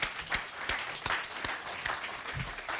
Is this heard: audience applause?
yes